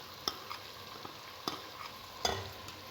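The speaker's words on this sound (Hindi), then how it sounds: "अब इसमें अदरक लहसुन का पेस्ट शामिल करेंगे।" Ginger garlic paste sizzles in hot oil left from browning onions for a malai gosht, with a steady close frying hiss broken by a few sharp scrapes of stirring and no talk.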